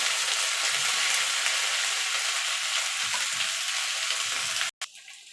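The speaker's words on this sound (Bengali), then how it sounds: "এবার ডাঁটা কুমড়ো আলু একসঙ্গে একটুখানি ভাজা ভাজা করে নেব।" Drumstick, pumpkin and potato pieces fry together in oil in a pan, a steady, close hiss and crackle of sizzling that runs unbroken, then cuts off abruptly near the end before a brief quieter sound.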